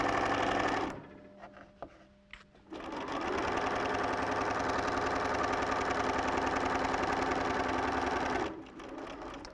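A sewing machine stitches fabric steered through with the tip of an awl, running in a fast continuous rattling drone for several seconds after a brief start-stop, close and loud with no talking.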